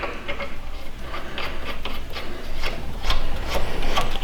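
A cap is threaded by hand onto a 22760 unloader valve: soft, irregular rubbing and scraping with light metallic ticks, close up and quiet, with no voices.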